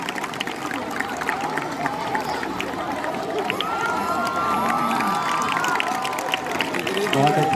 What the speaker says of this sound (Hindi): बहुत अच्छी तालियां बजाते रहे